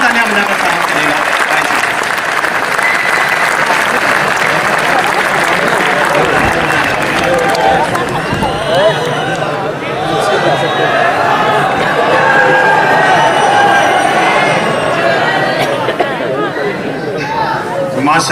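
An audience at a kavi sammelan poetry gathering welcomes satirist poet Sampat Saral with loud, continuous applause lasting many seconds, mixed with crowd chatter and voices throughout.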